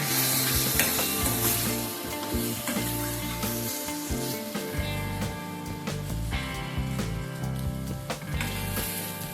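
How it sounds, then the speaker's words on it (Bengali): Shrimp coated in salt and turmeric fry in hot oil with a continuous spattering sizzle and periodic stirring clicks, set under steady tonal background music. "চিংড়িগুলোকে এবার হালকা করে ভেজে নেব।"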